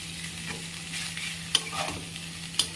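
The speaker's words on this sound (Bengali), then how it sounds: "চাউমিনটা দিয়ে ভালো করে নেড়ে নিচ্ছি" Chowmein noodles get tossed and stirred while frying in a pan, a continuous sizzle broken by a couple of sharp metallic scrapes and softer shuffling strokes, close-up with a faint steady hum and no speech.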